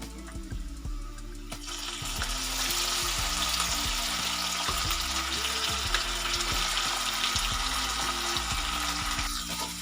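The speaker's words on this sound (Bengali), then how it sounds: "এবার আমরা এর মধ্যে 2 চামচের মতন রসুন বাটা দিয়ে দেবো।" Garlic paste added to onions frying in a pan for a Marathi-style mutton fry, a loud steady sizzle that rises after a couple of seconds, with faint stirring and a background hum.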